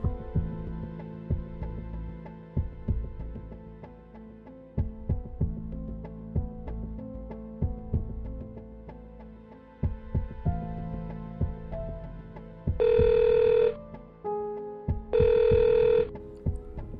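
Outgoing telephone call producing two loud electronic ringback tones, each lasting about a second, heard over a busy background of music or ambience with no talking.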